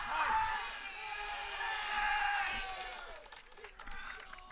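Baseball fans in the cheering section of a varsity high school playoff game raise a steady, loud crowd roar with whoops, fading slightly toward the end.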